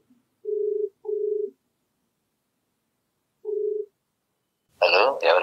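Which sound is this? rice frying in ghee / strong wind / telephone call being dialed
telephone call being dialed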